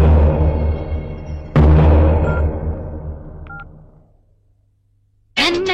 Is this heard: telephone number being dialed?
yes